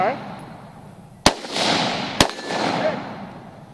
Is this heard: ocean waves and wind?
no